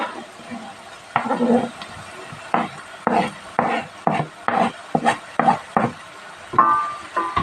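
About 400 grams of washed, chopped mushrooms are tipped into a chicken casserole dish and worked in, giving close, repeated scraping, rasping and rustling bursts with light clatter against the dish.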